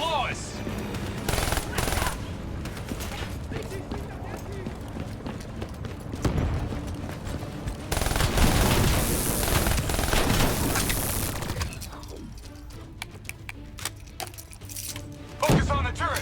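Rapid automatic gunfire from turrets and soldiers in a Call of Duty: Black Ops III campaign battle, with dense bursts, heavy impacts and explosions mixed with shouted speech.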